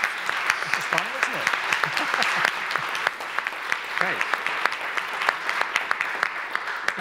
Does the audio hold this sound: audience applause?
yes